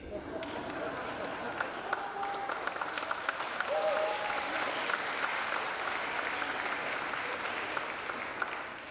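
A large graduation ceremony audience in Beirut applauds in a sustained, even roar of many hands, fairly distant and reverberant, with scattered individual claps and a murmur of crowd voices beneath.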